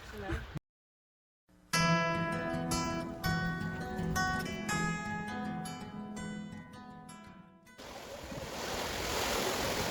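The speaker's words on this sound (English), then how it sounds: "The beach isn't really that busy, but it's really nice to get out in the sun." Waves breaking on a sunny Cornwall beach, a broad continuous wash of surf heard close, with a sharp dropout near the start and a brighter rushing swell toward the end.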